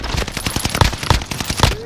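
Several sharp gunshots from a video game ring out at irregular intervals, three of them standing out louder and closer, over a steady bed of busy game noise.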